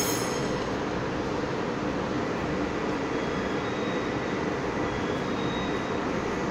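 An EMU commuter train at Xinzuoying station in Taiwan gives off a loud, continuous rail rumble and rush that stays steady throughout, with no talk over it.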